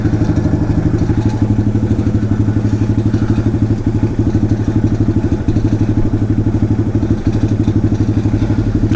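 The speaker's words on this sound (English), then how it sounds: "Pretty sure that rattling was not my bike." A Honda Grom motorcycle idles in a steady, fast-pulsing thrum with a dense mechanical rattle layered on top, loud and close, with no talking over it.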